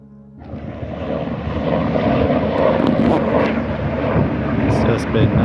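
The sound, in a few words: helicopters and airplanes flying overhead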